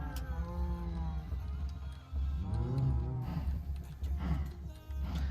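Cattle in a video game lowing repeatedly, a herd of cows giving several deep, drawn-out moos close by over a steady low rumble, with no talk.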